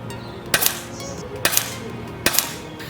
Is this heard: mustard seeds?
no